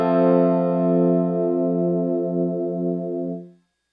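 A single sustained note from the Piano 2 preset on a Korg DP-3000c digital keyboard rings out clearly and alone with a slight chorus shimmer, holding steady for several seconds before stopping abruptly.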